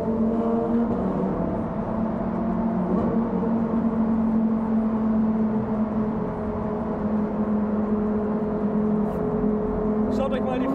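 A Lamborghini Aventador SVJ engine on a German autobahn, droning loud and steady under cabin noise with a low, sustained tone through a downshift and no sharp rev spikes.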